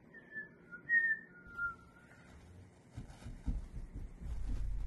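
A person whistles a few short high notes, fairly faint and close, followed by soft thumps and low rumbling.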